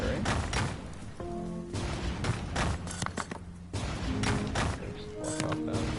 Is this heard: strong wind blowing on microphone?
no